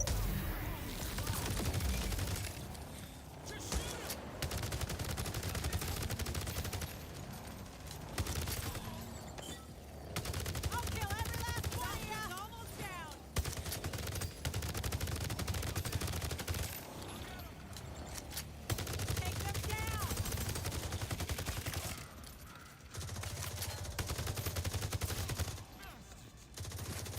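Shotgun and rifle fire in The Division: Resurgence, repeated bursts of gunshots coming in clusters with brief pauses over a game backdrop, mid-level, with intermittent speech mixed in.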